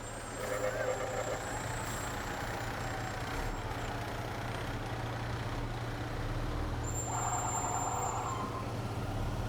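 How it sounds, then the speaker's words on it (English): Fire truck rolling past in a small-town St. Patrick's Day parade, a steady low engine rumble with brief high tonal beeps or siren chirps over the crowd noise of an outdoor street. "We have another one of Putnam Valley's fire trucks"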